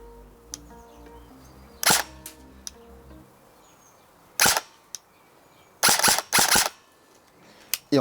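An airsoft AEG fitted with a Perun clicker fires in semi-auto, giving sharp, loud single snaps in a scattered sequence, some paired close together, with quieter clicks between and a faint hum early on.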